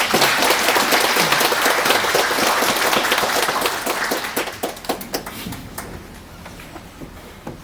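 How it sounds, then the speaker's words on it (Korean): A church congregation at Mass claps enthusiastically in welcome, the dense applause gradually thinning into scattered individual claps. "우리 환영의 박수 드릴까요?"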